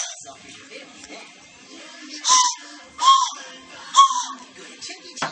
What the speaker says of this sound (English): blowing that whistle's thirsty work, isn't it